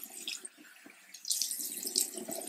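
Tap water runs into a sink while makeup is rinsed off the face by hand, a soft intermittent trickle that swells into a steadier, louder splashing flow partway through, close by with no talking.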